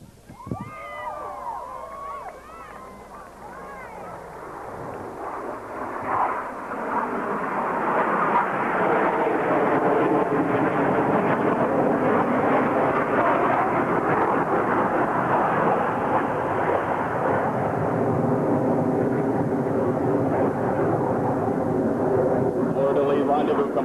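Blue Angels jets roaring past the crowd at a 1987 airshow at Carswell Air Force Base, a loud rushing engine roar building and holding for many seconds, with an announcer's voice over the PA early on.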